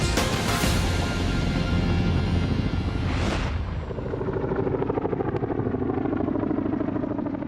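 Chinook helicopter flying in Afghanistan with an Apache escort, a loud, steady rotor and engine roar that fills the whole clip, with a brief rushing swell partway through, and no talk.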